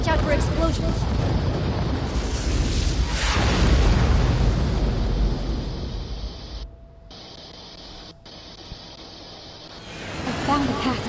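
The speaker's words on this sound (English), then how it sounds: "Watch out for explosions." Explosions in a shoot 'em up video game come as a loud, sustained roaring blast of noise that swells and fades over several seconds, followed by a brief near-silence and a softer rumble.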